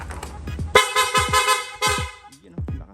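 A newly installed Piaa car horn is tested in a shop, sounding several loud, sharp blasts in quick succession, some short and some held a moment longer, with brief gaps between them.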